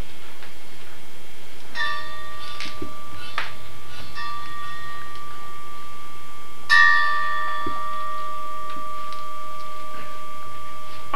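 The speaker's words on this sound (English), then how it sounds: "The bells you hear are ringing to warn the people to evacuate the city as the Martians approach." Bells ring out a city evacuation warning in a radio drama broadcast from a rooftop in New York, struck twice with long sustained tones that hang and slowly decay over a quiet background.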